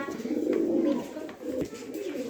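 A pair of Shirazi pigeons coo nearby in low, throaty, rolling calls, repeated in a couple of swelling phrases with faint background noise.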